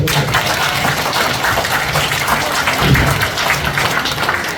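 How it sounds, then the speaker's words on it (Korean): An audience at a national security forum seminar applauds, a loud, even wash of clapping sustained for several seconds without speech. "박수 한번 치십시오"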